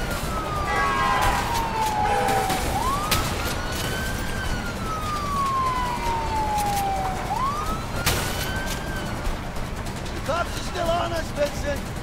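A police car siren from the video game A Way Out wails in two long falling-then-rising sweeps, loud and continuous over a dense background of game noise.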